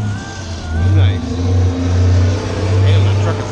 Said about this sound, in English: Damn, that truck is loud.